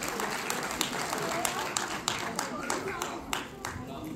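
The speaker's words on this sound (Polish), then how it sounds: "wielkie brawa" Audience applause breaks out at a charity auction during the 32nd WOŚP finale in Bolesławiec, a dense steady patter of many hands clapping throughout, mid-distance, with voices mixed in.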